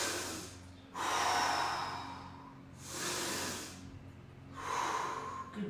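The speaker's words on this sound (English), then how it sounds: "make sure you breathe." Deep breaths during a mobility workout, with three long, audible breathy swells spaced a couple of seconds apart over a low background hum, close and moderately loud.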